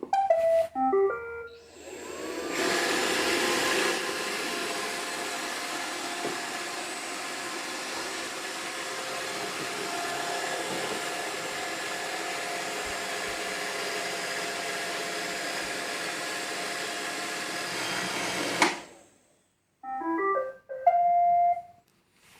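A low-priced iRobot robot vacuum hums with a steady whirring motor for about sixteen seconds, bracketed by short electronic beeping tones as it heads back to its charging base.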